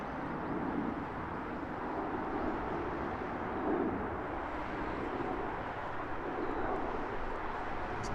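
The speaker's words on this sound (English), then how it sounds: "There's a plane out there somewhere." A steady broad roar of a jet airplane at Heathrow Airport, continuous and even over several seconds at a moderate distance, with no talk.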